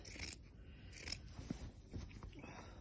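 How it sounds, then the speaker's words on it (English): Fabric scissors trim excess seam allowance at the crotch seam of girls' shorts, giving a few quiet close snips and scraping cuts spaced about half a second apart. "So I'm going to trim all of this"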